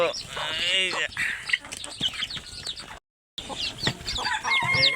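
Newly hatched native chicks cheep rapidly in busy overlapping peeps while hens cluck close by, with a short moment of silence partway through.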